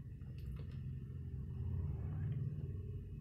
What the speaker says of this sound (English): I don't know if y'all heard that loud old car just go down the road, but I heard it in here.